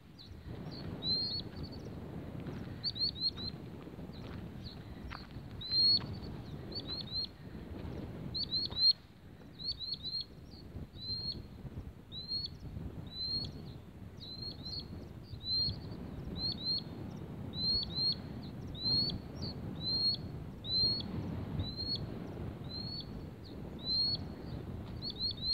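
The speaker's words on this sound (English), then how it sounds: "It's a water bird." Repeated short chirping calls from a water bird outdoors on open moorland along a hiking trail, fairly close and steady throughout, with light wind noise underneath and no talking.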